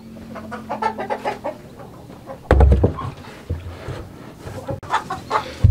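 Chickens cluck repeatedly close by in a coop, in short uneven bursts, with a louder thump partway through.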